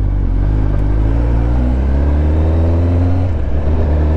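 A modified vehicle with a raw, loosely muffled exhaust revs steadily and loud, a deep, throaty rumble with a slight rise in pitch near the end, with no voices over it.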